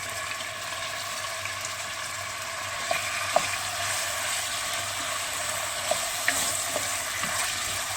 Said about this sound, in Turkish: 250-300 gram kuşbaşı doğranmış eti kavuruyoruz